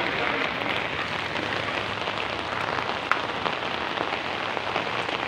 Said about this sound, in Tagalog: kusog na kayong ulan